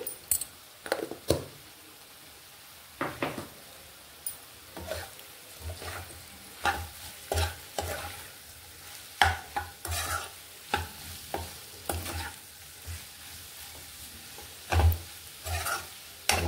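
A spoon scrapes and knocks against a pan again and again as spices are stirred into a frying egg and potato curry, irregular clanks over a low, steady sizzle.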